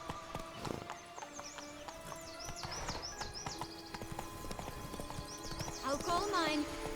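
Horse hooves clip-clop at a steady trotting pace in The Witcher 3, moderately close, with brief horse whinnies and voices talking over the hoofbeats.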